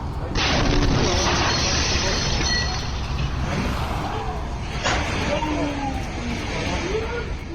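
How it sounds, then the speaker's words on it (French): A sudden gas explosion in Haiphong, Vietnam, near power lines and a motorcycle, hits as a loud broadband blast with a second burst a few seconds later, both over constant street rumble and background voices. "Une explosion de gaz soudaine est survenue à Haiphong au Vietnam le 4 octobre."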